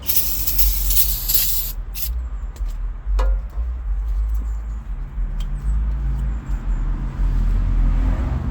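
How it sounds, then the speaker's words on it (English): Hissing bursts of brake cleaner sprayed from an aerosol can onto a 5.7 engine intake manifold, a few short sprays followed by quieter shop background. "Just putting some simple brake cleaner on there."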